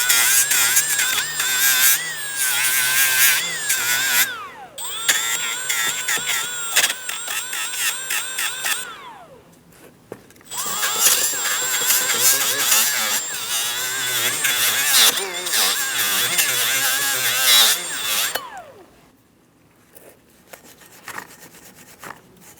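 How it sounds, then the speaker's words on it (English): A small power sanding disc whines and grinds against a metal rear brake bracket on a 2004-2008 Pontiac Grand Prix in two long bursts, pitch shifting under pressure, with quiet pauses between and after. "I'm just using my small sanding disc."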